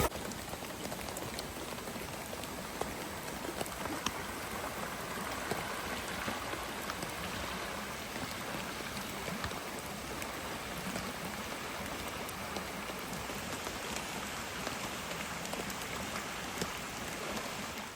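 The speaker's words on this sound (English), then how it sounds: "The rain keeps coming and going." Steady rain patters on a budget Walmart backpacking tent on a cold evening, a dense, continuous drumming close overhead that rises and falls slightly in intensity throughout, with no voices.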